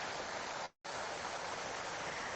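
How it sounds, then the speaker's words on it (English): A waterfall beside a stormwater channel in New Zealand gives a steady, broadband rushing roar, briefly cut to silence once before resuming. "Now this is the waterfall."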